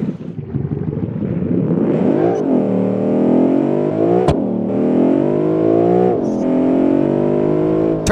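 A twin turbo sports car in BeamNG revs and shifts through the gears while driving, loud and close, with rising engine pitch sweeps, brief gear-change dips and sharp clicks.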